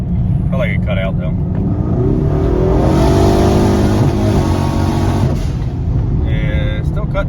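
Ford Mustang EcoBoost with a failing fuel injector, engine revving up loud and close under acceleration, the tone wavering as it surges and falls back, with a voice speaking over it.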